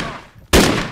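Gunfire in the video game DayZ: a single loud, close shot bursts in abruptly after a quieter moment and rings out for the rest of the brief moment.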